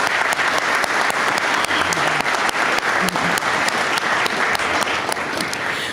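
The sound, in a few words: audience applause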